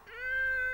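An animated cat lets out a single short, strained meow that rises and then holds a clear, slightly tonal pitch, close and alone.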